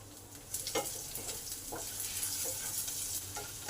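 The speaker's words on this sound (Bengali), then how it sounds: "রসুন কুচিটা আছে সেটা দিয়ে দিলাম, ভালো করে ভেজে নেব" Chopped garlic, a chili and whole cumin fry in hot oil in a pan, a close continuous sizzle with scraping stirs and small crackles through the whole stretch, without any voices.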